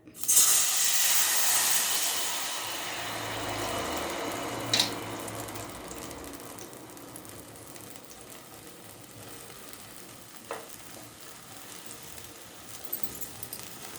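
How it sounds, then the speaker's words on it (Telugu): Tamarind extract poured into a hot kadai for tamarind pulihora bursts into a loud, bright hiss of steam, then settles into a softer, steady simmering hiss that fades over the following seconds, with no talking. "ముందుగా మనం వేయించి పెట్టుకున్న బాండిలోనే ఈ చింతపండు పులుసుని వేస్తున్నా"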